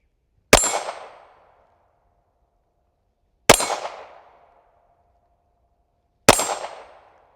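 Three loud, sharp pistol shots fired alone at steady intervals of about three seconds, each with a ringing metallic tail that decays quickly, during a grip and stance practice session.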